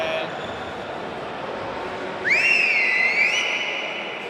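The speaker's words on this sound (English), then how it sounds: "Another very impressive whistle there from Bruce" A referee's whistle at a lightsaber fighting world championship gives one long, shrill, wavering blast lasting about a second, rising above a steady murmur of arena crowd noise.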